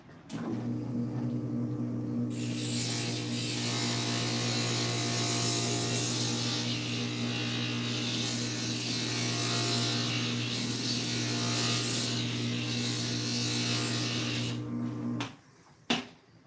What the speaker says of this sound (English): So I've got my markings of where to grind. We're gonna hit that real quick.